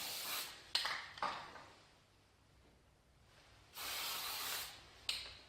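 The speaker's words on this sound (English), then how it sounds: "when you do spray, do it in a well ventilated area" Short bursts of aerosol spray paint hissing onto a 1:8 scale Mustang Shelby GT500 model, three or four sprays separated by quiet pauses, fairly close and moderately loud.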